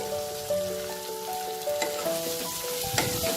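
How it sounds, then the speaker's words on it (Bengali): Chopped tomato frying in a pan for paneer bhurji, giving a steady close sizzle with light stirring scrapes, while soft tonal background music runs underneath throughout. "এই টমেটোটাকেও ভালো করে ভাজা করব"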